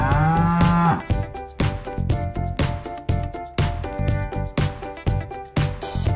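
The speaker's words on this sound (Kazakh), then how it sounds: "Я, фермада сиыр тұрады" A cartoon cow on a farm gives a long, loud moo at the start, followed by bright, bouncy children's music with a steady beat throughout.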